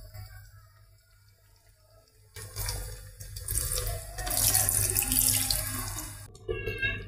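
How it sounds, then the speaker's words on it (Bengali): Tap water runs into a bowl being washed out after mixing meat in it, a quiet trickle that swells at about 2.4 seconds into a loud, steady splashing rush, then eases near the end. "এখন এই যে এই গামলাটা ধুয়ে একটু পানি দেব"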